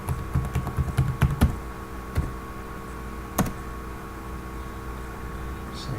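Someone types a domain password on a computer keyboard: a quick burst of close, sharp key clicks, then a few isolated taps spaced apart over a quiet background hiss.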